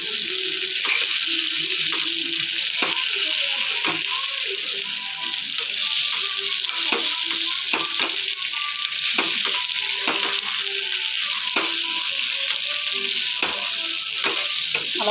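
Mutton pieces fry in a pan for a Sunday biryani meal, a continuous bright sizzle with repeated scraping and knocking strokes of a ladle stirring the meat, steady and close throughout.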